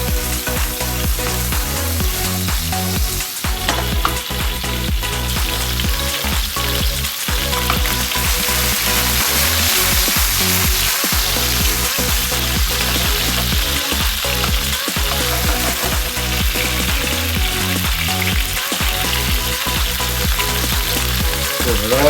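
Veal slices browning in a frying pan, seared on both sides for an Italian saltimbocca, give a loud, steady, continuous sizzle with scattered crackles and small knocks running through the whole stretch.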